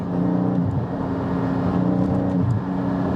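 A Porsche GT4 with a Milltek aftermarket exhaust revs and drones loudly at close range, its deep exhaust note rising and dipping slightly over a few seconds.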